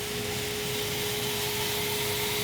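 Bench grinder cutting shoulders into a shirogami steel blade, a loud, steady grinding roar with a constant motor whine, close and uninterrupted, with no talk.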